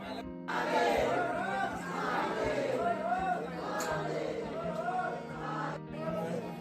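Crowd chatter in the busy grounds of Trimbakeshwar temple in Nashik, many overlapping voices murmuring at moderate distance, steady and fairly quiet throughout.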